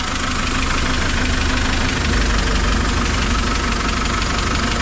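A vehicle engine idles with a steady, close, knocking rumble while lifting a homemade dump trailer, loud and continuous with no talking.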